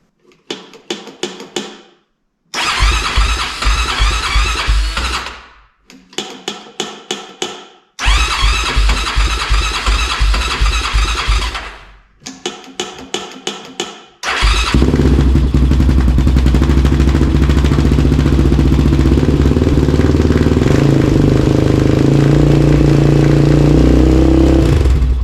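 Honda 400EX quad engine cranking in several short bursts, separated by pauses, before catching and running steadily with a loud, continuous near rumble.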